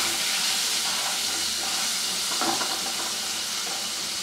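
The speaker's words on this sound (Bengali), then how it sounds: "নুন হলুদ দিয়ে আলুগুলোকে ভেজে নিব।" Potatoes frying in a pan with turmeric and salt for a Bengali dhokar dalna produce a loud, dense, unbroken sizzle close by, with a faint stir midway.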